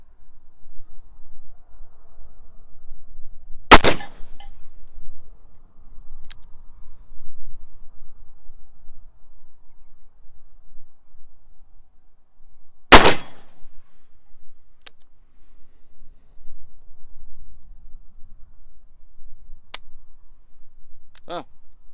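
Two loud, sharp shots from a Taurus 627 Tracker .357 Magnum revolver ring out about nine seconds apart, each followed by faint, distant pings of rounds striking steel targets, with quiet background hiss between.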